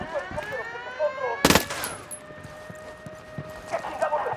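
One loud, sharp gunshot cracks out in the video game Ghost Recon Wildlands amid quieter background tones and faint scattered clatter.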